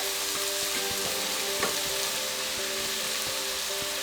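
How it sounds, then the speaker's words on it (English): Brown rice with tamari, a gluten-free soy sauce, frying in a pan, giving a steady close sizzle with faint occasional stirring scrapes and no talking. "And then we're going to toss in the tamari. So our gluten-free soy sauce, in case you forgot. We're going to cook that all together."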